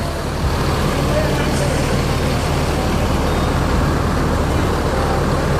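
Four intercity buses departing Pondok Pinang for a long trip to Ranah Minang, heard as a steady, loud diesel engine rumble with traffic noise throughout, no distinct pauses.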